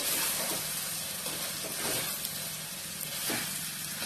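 Snake gourd pieces sauté in a pan, giving a steady, close sizzle and hiss with occasional stirring scrapes and no talking.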